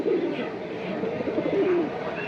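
A pigeon held up for sale coos in low, repeated, throaty notes close by, with faint talk around it.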